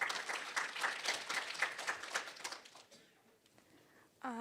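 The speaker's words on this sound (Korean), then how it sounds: "박수 부탁드리겠습니다." Forum audience at a research data track session applauds, dense clapping that thins out and fades after about three seconds before a voice begins at the very end.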